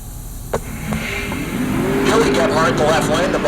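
Drag racing cars launch and accelerate hard down the strip at Heartland Park Topeka, with an unlimited-class square body among them. A brief sharp crack comes first, then a sustained rising engine roar, loud and close, under a commentator's talk.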